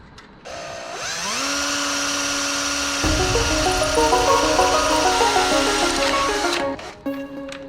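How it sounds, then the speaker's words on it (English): A power drill spins up and bores holes for mounting brackets on a 1979 Lincoln Continental air suspension install, a loud whining motor with its pitch rising and stepping as the bit bites, then winding down. "once you drill the holes"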